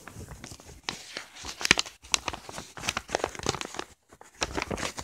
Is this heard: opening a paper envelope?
yes